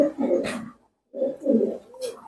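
A fancy pigeon, a black long-face type, gives two close, rounded bursts of cooing in a loft with a short pause between them.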